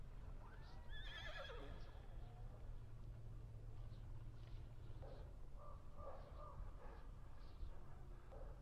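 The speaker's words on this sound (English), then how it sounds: "At least we got a horse." A horse whinnies once, loudly and up close, in a shaky falling call, and then only a low steady background rumble remains.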